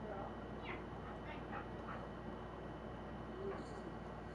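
Ivy the dog lets out a few short, faint barks in quick succession from a distance over a low background hum, then falls quiet.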